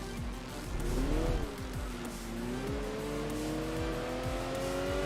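Audi race car engine in Enthusia Professional Racing, revving loudly with gear changes and rising pitch as it accelerates, held up close and steady throughout with faint tire squeal.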